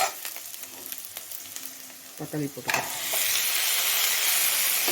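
Chopped tomatoes tipped into a pan of frying onions for paneer butter masala, a few scraping stirs then a loud, steady hiss of sizzling that swells and holds close up.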